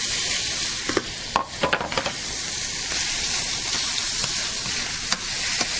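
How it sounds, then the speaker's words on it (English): Beaver meat searing in hot bacon fat gives a loud, steady broadband sizzle close by, with a few quick scraping stirs early on and no voices. "I've already started with some bacon fat in here. We're gonna sear the beaver."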